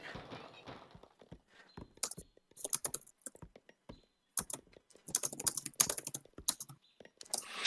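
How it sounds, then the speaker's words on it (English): Rapid keyboard typing during a real-time strategy game, heard in bursts of quick clicking keystrokes with short pauses between them, close and moderately loud, with no talking. "So you're still typing?"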